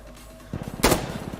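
Close, punchy gunfire from the shooter game Insurgency Sandstorm. A rapid burst of automatic shots breaks out, then one louder, sharper blast lands and more quick shots follow.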